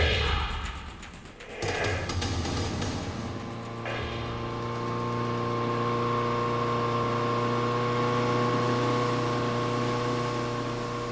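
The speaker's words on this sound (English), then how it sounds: "Marty Pokala navigates his boat across an inland sound" A motorboat engine hums steadily at a distance on an inland sound in Michigan in midsummer, its tone holding even after a brief surge at the start, fairly quiet, no talking.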